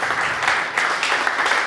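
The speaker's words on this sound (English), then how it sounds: "Big round of applause." A brief, loud burst of audience applause follows a startup pitch, many hands clapping in a dense wash that holds steady through its short length.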